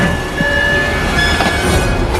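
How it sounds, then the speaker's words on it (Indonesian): A train brakes hard and rolls backward toward the previous station, heard as a short steady rumble of rail cars with a faint high squeal of wheels on track. "tiba-tiba saja kereta yang dinaiki Jerry mengerem mendadak dan kembali mundur menuju ke stasiun sebelumnya"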